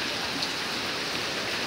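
Heavy rain falls in Jamalpur Sadar as a dense, steady wash of drops hitting surfaces nearby, continuous and even throughout.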